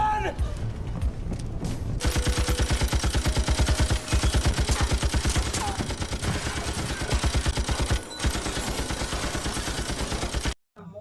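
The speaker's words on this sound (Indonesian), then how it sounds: "Rita yang datang membawa senjata seperti Rambo menembak secara brutal ke arah para zombie." Sustained bursts of rapid machine-gun fire, loud and close, rattling almost continuously with a couple of brief breaks before cutting off.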